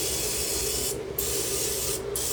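Chicken wings are spritzed with a spray bottle before air frying, a close, continuous hissing mist broken by two brief pauses, with no one speaking.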